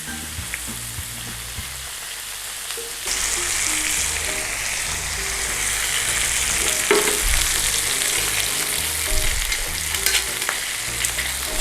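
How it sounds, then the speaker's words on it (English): Pork chops sear in a frying pan with garlic, a steady broadband sizzle that grows louder after a few seconds and carries on with occasional sharper crackles and the scrape of the meat being moved. "Get it lifted up and seared it off. Just work your meat in the pan guys."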